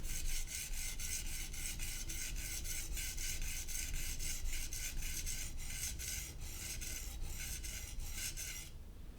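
A knife blade is stroked across a sharpening stone, giving a close, rhythmic series of bright rasping scrapes, dozens of even strokes in a steady tempo without talk, ending abruptly.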